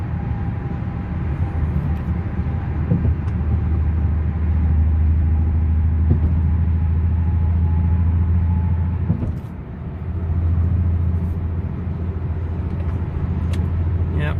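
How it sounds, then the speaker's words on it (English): Car engine in sixth gear at low RPM with original fuel injectors and a suspected misfire, a steady close low rumble with a rough shuddering drone that dips briefly near the ten-second mark. "Sixth gear at low RPM just shudders and doesn't sound right."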